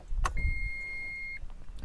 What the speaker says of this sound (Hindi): अब मैं की ऑन करता हूँ गाड़ी की